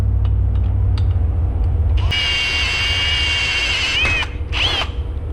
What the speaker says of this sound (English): I'm just going to run a reamer through that to make the size exactly 7/16.